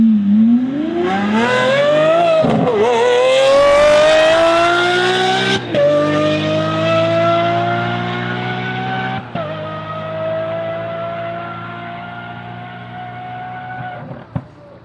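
Tesla Model S Plaid and a twin-turbo Chevy Silverado racing side by side, a loud, close engine and drivetrain roar rising steadily in pitch with sharp shifts and brief breaks, sustained for the whole stretch with no talk.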